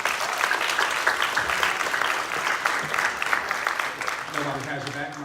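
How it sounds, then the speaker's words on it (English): Sustained audience applause at a knowledge bowl competition, a thick wash of clapping that fades slightly near the end as a voice starts speaking over it. "Thank you very much for starting that clap off right there"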